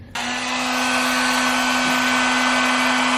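A heat gun switches on and blows a loud, steady rushing hiss with a low motor hum, held close while warming glossy metallic Spanish Viridian vinyl wrap on a Jeep WJ.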